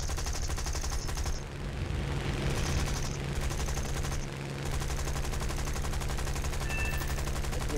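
Aircraft cannons on a Typhoon fighter in War Thunder fire in long, steady rattling bursts over a constant engine drone. Two brief gaps break the firing, which is moderately loud.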